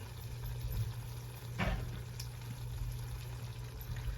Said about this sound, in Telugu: వేసి కొంచెం వాటర్ పోయాలి